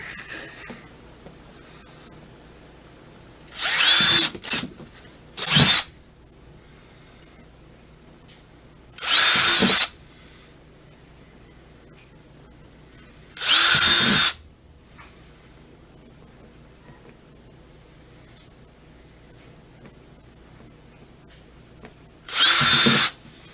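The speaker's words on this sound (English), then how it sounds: "So now I'll drill some holes for" A power drill bores holes through a box lid for wires in five loud bursts, each a few seconds long, separated by quiet pauses.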